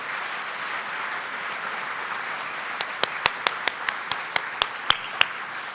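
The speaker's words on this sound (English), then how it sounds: "Can we please have a round of applause for these wonderful individuals" Soft, diffuse applause from an audience at a chamber of commerce town event, with a series of sharp, louder individual claps close by punctuating the second half.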